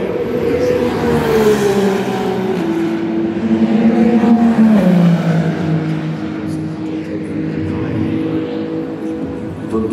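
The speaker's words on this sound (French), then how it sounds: "est-ce que on va faire le passage des deux Porsche pour jouer le jeu de l'aspiration?" Two Porsche race cars at Le Mans roar past one after the other, engines loud and close with a falling pitch as they go by, under steady commentary.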